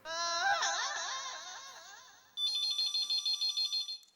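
A warbling electronic tone fades, then a bright, pulsing ringback tone repeats in quick, even bursts, close and clear.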